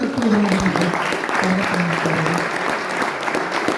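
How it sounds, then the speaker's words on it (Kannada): A stage audience at a Swami Vivekananda Day celebration at a sainik training centre claps loudly and steadily for a few seconds, with a voice talking over the applause. "ಈ ವೇದಿಕೆ ಪರವಾಗಿ ಜೋರಾಗಿ ಚಪ್ಪಾಳೆ"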